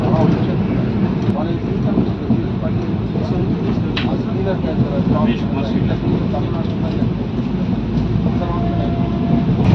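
A Shatabdi express train rolls along at speed, a loud continuous rumble with rhythmic rattling and clatter from the carriages, steady throughout.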